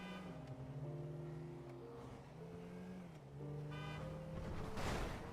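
A taxi in GTA Online drives along with a steady engine drone that rises and shifts as it accelerates through gear changes, loud and close, with a brief whoosh near the end.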